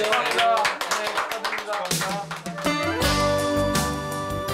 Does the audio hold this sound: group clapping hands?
yes